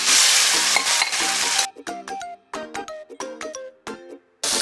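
Jackfruit pieces sautéing in ghee in a pan give a loud, close sizzle that then breaks into short bursts between clear tonal notes, with no voices.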